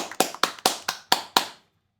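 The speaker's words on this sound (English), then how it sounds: "I don't think the applause is necessary." A handful of sharp claps in the fighting game Persona 4 Arena Ultimax ring out in a quick, slightly uneven series, about six in under two seconds, then stop into silence.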